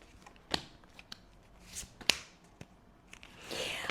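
Cards riffled and snapped in a few quick bursts, close and crisp, with a longer shuffling rustle at the end.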